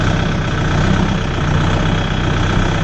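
A Kubota MU5502 tractor engine runs loud and close in a steady diesel chug, with a dense low rumble and no clear change in pitch over the short stretch.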